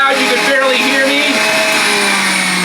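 A high-speed centrifugal juicer, used here for juicing onions, runs loud and steady with a dense whining motor roar and shifting tonal hum, close and unbroken for the whole stretch.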